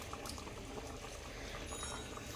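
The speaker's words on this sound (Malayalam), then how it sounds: "ഇപ്പോൾ ഇത് അത്യാവശ്യം നന്നായി തിളച്ചിട്ടുണ്ട്." A fish curry made with coconut milk simmers at a rolling boil in a pot, a soft, steady, continuous bubbling heard close by, fairly quiet and with no voices.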